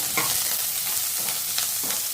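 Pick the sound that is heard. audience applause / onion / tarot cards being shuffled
onion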